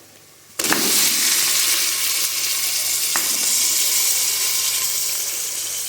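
Mutton hits hot oil in a pot with lightly fried onions, a sudden loud sizzle that settles into steady, close frying hiss.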